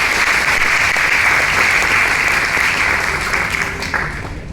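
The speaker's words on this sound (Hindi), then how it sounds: "जिनके लिए मैं चाहता हूं जोरदार तालियां एक बार" Loud, sustained applause from a large audience at a direct-selling business event, dense and even throughout, fading slightly at the end.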